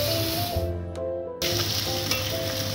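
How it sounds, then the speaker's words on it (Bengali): Fish shallow-fried in hot oil in a pan gives off a loud, continuous sizzle and spatter, cut off abruptly for half a second before resuming just as strongly. "মাছগুলো হালকা হালকা ভেজে নিচ্ছি।"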